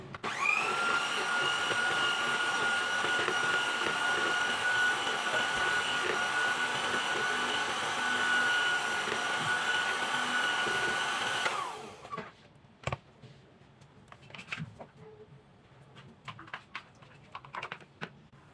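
An electric mixer whips thick, fridge-chilled chocolate sauce with a steady, loud, continuous whir for about twelve seconds, then cuts off, leaving scattered clinks and small handling knocks.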